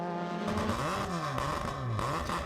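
Several race cars including a Mazda RX3 starting a race, heard from on board in mid-field: steady loud engine drone with rising and falling revs, many engines blending continuously.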